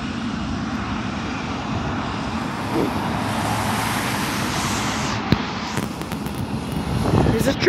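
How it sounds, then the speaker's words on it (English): A Boeing 777 airliner takes off near LAX, its jet engines making a loud, sustained roar that builds steadily, with passing road traffic and faint background talk. "There's a 777 taking off."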